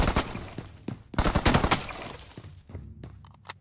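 Gunfire in a hunting video game comes as loud, close bursts of rapid shots, clustered together with short pauses between volleys.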